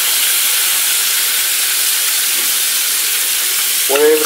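Spaghetti sauce sizzling loudly in a hot pan, a dense continuous frying hiss throughout with a short clatter near the end; no talking.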